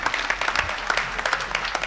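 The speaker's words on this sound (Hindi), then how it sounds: "मेरे लिए भी आप तालियां बजा सकते हैं" Audience at a Hindi poetry gathering claps steadily, a dense patter of many hands that stays even and fairly close for the whole stretch, with no voices over it.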